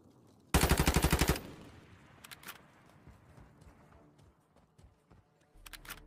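Rapid burst of automatic gunfire in Warzone Mobile, loud and close, about ten shots in under a second, followed by quieter scattered game sounds and a few faint distant shots.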